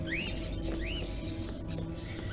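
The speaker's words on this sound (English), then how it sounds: "Are those crows in the cages?" Birds in cages in the video game Indigo Prophecy give a few rising chirping calls over a steady low ambient hum, moderately loud with no talking.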